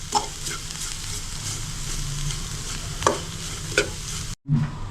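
Grated carrot for carrot halwa sizzles steadily as it is stirred and fried in a pan, with a few sharp spatula scrapes, then a brief silent gap near the end.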